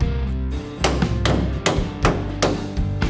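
Small hammer tapping a stubborn truck door onto misaligned hinges in a custom garage, several sharp metallic knocks spaced irregularly, close and loud with no talk.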